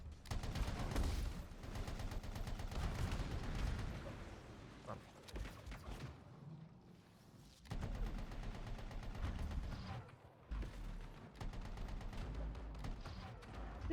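Gunfire during a boss fight in the game Anthem: dense rapid bursts of automatic weapons and shots that continue almost without a break, dropping briefly before resuming at full intensity, with no talking.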